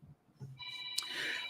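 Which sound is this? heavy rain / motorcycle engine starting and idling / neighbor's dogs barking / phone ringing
phone ringing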